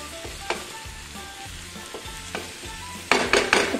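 Prawn filling for stuffed nool puttu stirred in a pan over a low flame: a quiet steady sizzle broken by repeated spatula scrapes and knocks, with a burst of louder scraping near the end.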